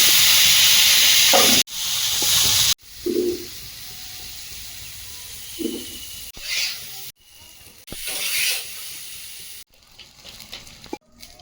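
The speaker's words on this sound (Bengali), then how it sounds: "বেগুনটা ভেজে নেব" Salted, turmeric-coated eggplant pieces fry in hot oil in a wok, giving a close hissing sizzle that comes and goes across several abrupt cuts, with quieter stretches between.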